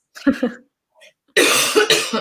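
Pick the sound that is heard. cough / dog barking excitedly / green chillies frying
cough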